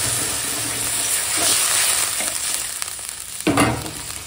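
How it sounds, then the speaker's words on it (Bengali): Spice paste of ginger and cumin frying with vegetables in a pan sizzles loudly and steadily, with stirring scrapes and a sharp burst of sizzle near the end. "এখন মশলাটা সবজির সঙ্গে ভালো করে ভাজা হয়ে গেছে"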